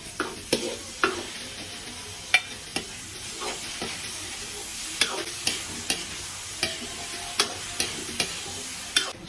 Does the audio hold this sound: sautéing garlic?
yes